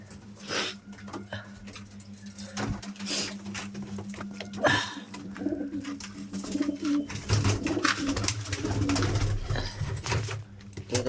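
Pigeons kept at home, bathing in potash water, cooing in low repeated throaty notes through the whole stretch, close by, alongside rustling, flapping and handling noises.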